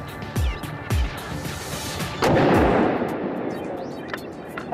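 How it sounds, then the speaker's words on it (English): A .50 caliber rifle round strikes a camera and sets off an explosion: two sharp booming shots, then a loud blast that rolls out into a long rumbling decay with scattered debris, fired outdoors at distance. "The 50 caliber round hit charged capacitors inside the camera, causing an explosion."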